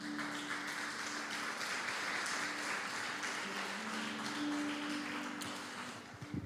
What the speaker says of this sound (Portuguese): Pode aplaudir ao Senhor, amado.